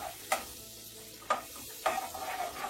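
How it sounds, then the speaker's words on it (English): A stick of butter melts in a pot with a soft sizzle while it is stirred, and three distinct scraping strokes sound close and clear. "Gonna twist the butter around in the pot till the finally melt out."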